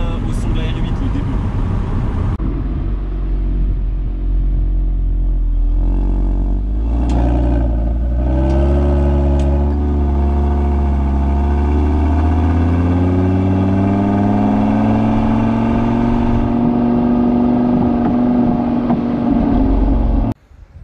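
An Audi RS3 five-cylinder engine revs up loudly and continuously, its pitch climbing steadily through a long acceleration with a raspy, throaty tone, cutting off abruptly at the end.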